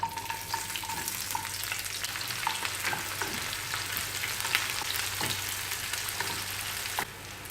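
Small shallots frying in hot oil with dried red chillies, a steady close sizzle with scattered crackles and stirring scrapes throughout, easing slightly near the end.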